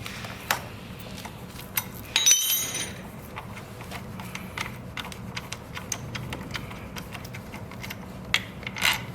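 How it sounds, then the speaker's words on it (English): An M10 socket ratchet clicks in short, uneven bursts while a motorcycle front brake caliper is unbolted on an Xpro Storm 150, with quiet mechanical ticks and a brief metallic clink near the start and no talk. "use an M10 socket to remove the front brake caliper"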